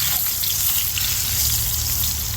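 A ribeye steak sears in a cast iron pan, giving a steady, loud, broadband sizzle that holds evenly throughout with no pauses.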